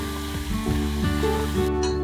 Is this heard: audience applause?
no